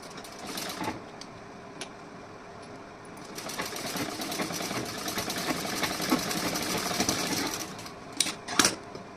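A sewing machine stitches around a neckline in one steady run of several seconds, preceded by quieter handling and ending with a few sharp clicks, close by with no talking.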